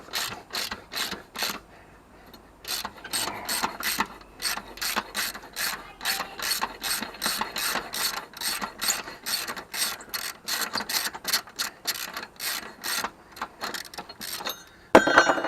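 A 13 mm ratchet loosens the belt guard on a Craftsman Platinum self-propelled lawnmower, clicking in rapid repeated bursts of sharp pawl ticks with short pauses between strokes, close and clear with no talking.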